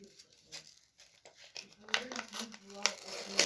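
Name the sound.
tearing open a plastic packet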